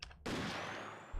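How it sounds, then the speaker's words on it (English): A single loud gunshot from the PS2 light-gun game Vampire Night fires sharply after a brief quiet lead-in, followed by a sustained booming, echoing tail that fills the rest of the moment. "there's gonna be a gunshot sound in a second"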